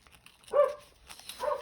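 Two separate dog barks outdoors, a short gap between them, moderately close, with faint background noise and no talking.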